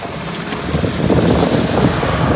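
A charter fishing drift boat heads in through Boynton Inlet in South Florida, its rumble steady and fairly loud at a distance, mixed with wind buffeting the microphone and surf washing nearby.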